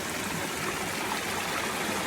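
Rain-swollen creek water runs steadily, a close, continuous broadband rush and trickle with no breaks and no one speaking.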